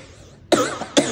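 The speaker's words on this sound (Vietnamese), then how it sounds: "Ho quá lắm." Two sharp, close coughs from one person in quick succession, each a harsh burst, after a faint bit of breathy background.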